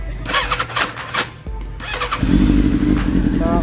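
A Honda CBR750 Hurricane motorcycle engine with freshly set-up carburetors cranks over and catches, then settles into a steady, loud running drone close by, with a voice briefly heard before it starts.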